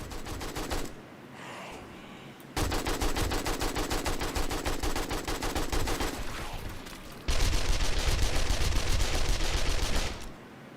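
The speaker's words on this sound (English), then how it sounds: "Shoot that other cop." Sustained automatic gunfire in the survival game 7 Days to Die, long rapid volleys of loud shots broken by a short gap, the final burst heavier and louder before cutting off.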